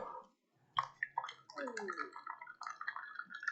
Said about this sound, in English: And you can hear the pressure release whenever you go down with